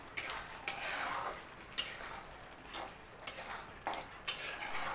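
A spoon stirs masala paneer with salt and coriander in a pan, giving several sharp metallic taps and scrapes spaced irregularly over a soft sizzling hiss, close and fairly quiet.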